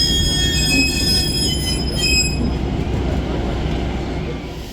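Wheels of a train on the Cooperstown & Charlotte Valley heritage railroad squeal in high, steady metallic tones over a loud continuous rumble of rolling cars, fading slightly at the end.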